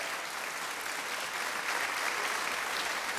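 A church congregation claps loudly for the Lord in a dense, sustained wave of applause that fills the room evenly throughout, with no voices over it.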